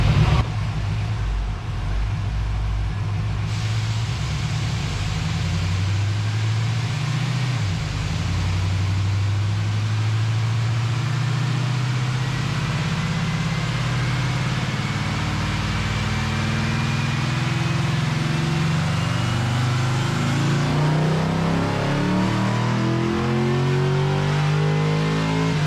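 The LS engine in a 1969 Camaro, running with a changed air intake, idles and then revs repeatedly, its loud, close roar rising and falling in several swells over a steady running drone.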